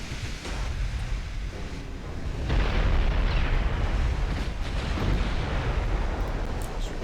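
A shell strikes a German warship in a naval war game, giving a loud, heavy rumbling blast that swells and rolls on for several seconds with no voices.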